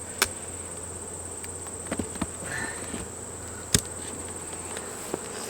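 Honey bees humming around a hive packed with honey during a harvest, a steady insect drone with faint buzzes and a few soft clicks and taps, no talk.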